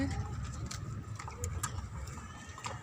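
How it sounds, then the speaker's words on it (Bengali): Pigeons on a rain-soaked rooftop garden coo softly while waiting for feed, a low steady murmur with a few faint higher chirps running throughout. "কবুতরগুলো খাবারের জন্য অপেক্ষা করতেছে।"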